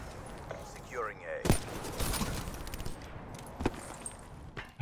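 Gunfire bursts from the Call of Duty: Black Ops 3 video game, a few sharp shots and short volleys amid game sounds, with a player talking over the action.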